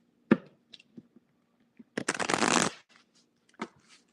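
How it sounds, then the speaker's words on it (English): Tarot cards being shuffled by hand: a few soft taps and flicks, then one longer riffling burst of cards, followed by scattered light card handling, close and fairly quiet. "Shuffle, shuffle time."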